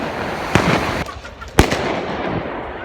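Fireworks burst during the Iranian Wednesday-eve bonfire festival before New Year, two sharp loud bangs about a second apart with crackling tails over a constant noisy outdoor crowd hubbub.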